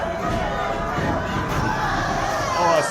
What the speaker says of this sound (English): You see Johnny Two Fingers and the rest of the PPW crowd calling for it